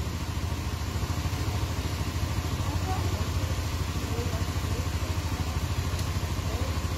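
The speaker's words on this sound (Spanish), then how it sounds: "Esa moto 110 centímetros es la que están requisando en este momento" A 110 cc motorcycle engine idles steadily with a fine, even mid-range throb and clatter that holds a constant level the whole time, with no noticeable change in pitch or pace.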